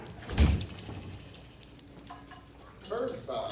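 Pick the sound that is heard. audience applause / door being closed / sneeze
door being closed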